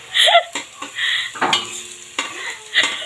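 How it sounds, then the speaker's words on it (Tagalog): Crab miki is being stirred in a new cooking pot, with scraping utensil strokes against the metal and faint sizzling in a quick, uneven rhythm, close and clear with no talking. "Dahan-dahan po si Anjing maghalo dahil po bago yung kanilang kaserola."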